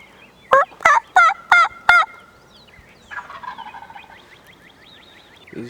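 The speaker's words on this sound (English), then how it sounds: "Actually got a turkey over here pretty fired up." A wild turkey gobbles in a quick series of five loud, rattling bursts from a farm field in Lewis County, Missouri, followed by softer, distant bird calls.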